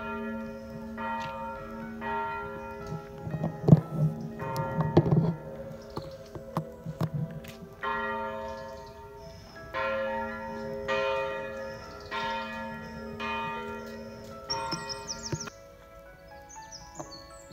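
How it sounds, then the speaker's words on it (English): Church bells peal in a repeating series of ringing strikes in Culross, Fife, Scotland, echoing at moderate distance, with birds chirping faintly in the background. "A lot of bell ringing going on."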